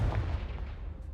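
A Confringo blast spell cast in Hogwarts Legacy, a single sharp booming burst with a deep thud that quickly fades, loud and close with no talk.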